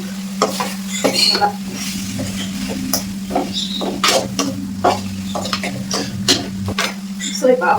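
Coriander leaves tossed into a pan with sesame oil and stirred, bringing a soft sizzle with repeated scraping and clinks of a spoon against the pan, under a steady low hum.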